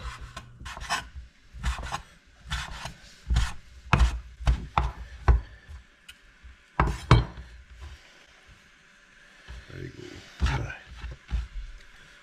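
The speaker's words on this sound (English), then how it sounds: "I'm gonna chop up the avocado" A knife chops through avocado on a cutting board in a series of crisp, close knocks, irregular in rhythm and clustered in bursts, with quiet gaps and faint background noise.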